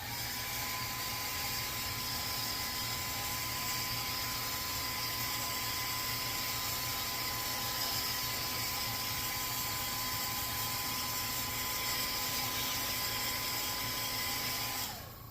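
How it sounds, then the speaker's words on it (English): A heat gun sets paint on a rainbow trout fishing lure, giving a steady, even blowing whir with a faint whine that runs unbroken throughout and cuts off at the end. "we'll go ahead and heat set that real quick"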